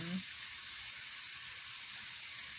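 Pork fat sizzles in a hot pan as oil renders out for sautéing garlic and onion, a steady, even frying hiss that holds throughout.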